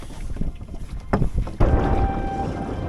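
A wind gust rushes over a Drascombe Lugger sailing boat beating under sail on the Irish Sea, a broad blustery roar that swells suddenly partway through and stays loud and close to the end.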